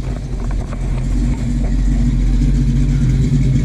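Car engines rumble and rev at a car meet as vehicles pull in, a loud continuous low drone with some clatter and no talking.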